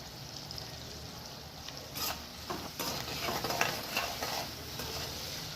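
Cut vegetables — chilli, capsicum, carrot, coriander, curry leaves and tomato — stirred with salt in a pan for vegetable quinoa, giving a steady low sizzle with soft scraping strokes that rise toward the middle, with no talking.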